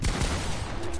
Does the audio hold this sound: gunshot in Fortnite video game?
yes